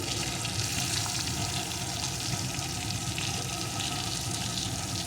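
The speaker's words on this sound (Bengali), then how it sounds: "এখন এর ভিতরে দিয়ে দেবো একটু রসুন কুচি।" Chopped garlic frying in tempering oil for a kuche fish dish, a steady dense sizzle that stays even and close throughout with no voices.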